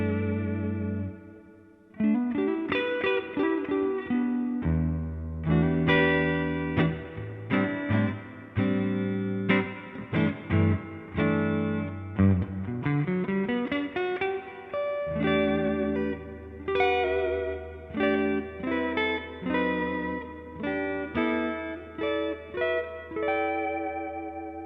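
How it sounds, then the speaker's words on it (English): Mark Speer model Stratocaster electric guitar played on its neck pickup through a Fender Blues Deluxe amp, a loud continuous melodic run of chords and single notes with sustained warm tones and some effects shimmer, no voices. "Let's take another quick listen to the neck pickup by itself."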